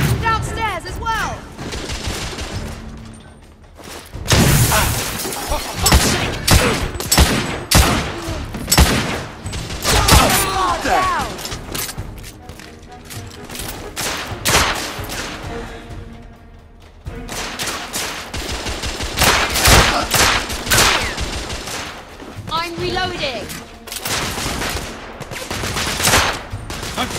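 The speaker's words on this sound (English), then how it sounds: "I'm taking heavy fire!" Heavy gunfire from The Order: 1886 video game, dense bursts of shots and explosions rolling almost continuously with brief lulls, loud and close, with no talk over it.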